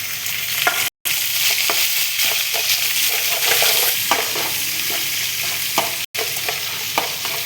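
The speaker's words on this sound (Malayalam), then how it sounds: "കഴിഞ്ഞിട്ട് നമുക്ക് കുറച്ച് പച്ചമുളക് ഇടാം, കുറച്ച് വെളുത്തുള്ളി ഇടാം, കഴിഞ്ഞ് കുറച്ച് ഇഞ്ചി ഇടാം." Green chilli, garlic and ginger frying in a pan, a loud continuous sizzle broken by stirring clatter and two brief cuts to silence, with no voices.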